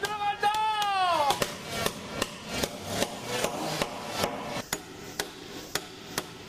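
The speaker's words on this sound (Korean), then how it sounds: "나이가 무색하게 그의 망치질은 힘이 넘칩니다" A hammer strikes repeatedly on a traditional wooden house during roof construction. There are about a dozen sharp, ringing blows at an uneven working rhythm, moderately close. A brief voice-like tone sounds near the start.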